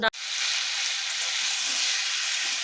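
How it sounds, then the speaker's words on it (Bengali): Fish curry in a pan being sautéed down (kosha), giving a steady, close, loud sizzle with an even hiss that runs the whole time after a brief opening knock. "তো মাছের ঝোলটা কষিয়ে নিচ্ছি পুরো"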